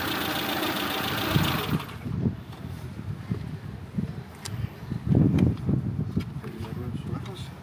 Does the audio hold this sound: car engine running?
yes